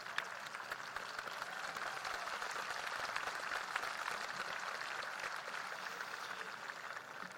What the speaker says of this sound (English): Class of 2025, you deserve a collective round of applause.